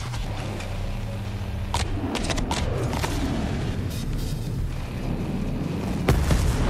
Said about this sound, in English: let's fire off that rocket launcher one more time